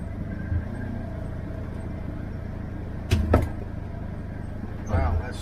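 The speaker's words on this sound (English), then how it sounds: "Drove over it, snapped, flipped up in the air." A stick snaps under an off-road vehicle driving a steep forest trail, two sharp cracks with a short clatter over a steady engine drone, followed later by a brief, fainter knock.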